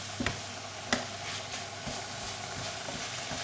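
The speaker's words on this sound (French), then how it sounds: "dans ma poêle, j'ai rajouté ma viande à mon oignon et mon ail. Et je vais bien faire revenir tout ça" Meat browning in a pan with onion and garlic for homemade cannelloni filling, a steady soft sizzle with a couple of faint utensil clicks, quiet and close.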